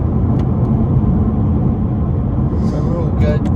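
Low, steady rumble of a premium car cruising on the road, engine and tyre noise filling the cabin at a constant loud level, with a voice talking briefly near the end.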